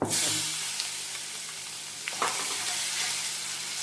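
Cumin seeds sizzle in hot oil with black gram dal in a pan, a steady bright hiss that runs throughout, with a few faint clinks of stirring.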